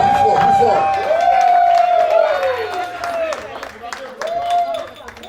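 A birthday-bash crowd cheers and claps, responding loudly and continuously to an MC who urges them to make noise. Voices and applause mix together and fade slightly toward the end.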